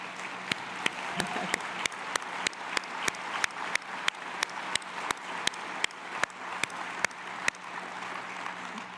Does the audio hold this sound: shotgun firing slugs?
no